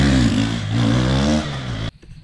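An RC sport motorcycle does a flyby at a corner. The engine roars loud and close, pitch shifting as it revs, then cuts off abruptly and leaves a quiet tail.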